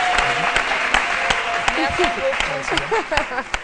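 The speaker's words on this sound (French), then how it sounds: "On va lui dire au revoir avec des applaudissements." A television studio audience applauds to see off a guest, dense clapping that keeps going beneath a host's voice, with sharp individual claps standing out.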